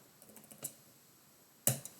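A typewriter clacks during a poetry livestream, a few soft faint keystrokes early on followed by one louder sharp strike near the end and a lighter tap after it, with no talk.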